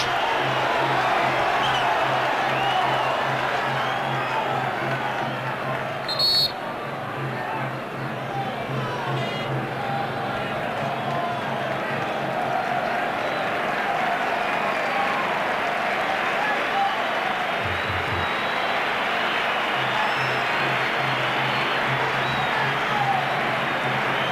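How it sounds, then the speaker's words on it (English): Football crowd at the Bernabeu applauding in a 1998-99 La Liga match between Real Madrid and Valencia, a broad sustained roar of clapping and murmur from the stands, with a steady hum underneath and occasional sharper sounds. "So the Bernabeu stands and applauds Mijatovic, who leaves the pitch"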